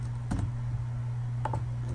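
Two brief key presses on a computer keyboard, one near the start and another about a second later, sounding close and faint over a steady electrical hum.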